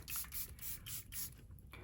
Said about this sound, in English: we have to go in with the tried and true Airbrush Flawless Setting Spray by Charlotte Tilbury